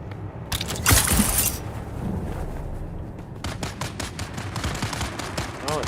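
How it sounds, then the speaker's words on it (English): Distant gunfire in the video game Dune Awakening, bursts of rapid shots crackling through a steady ambient bed, with a louder burst early and sharper repeated shots toward the end. "So I'm hearing gunfire"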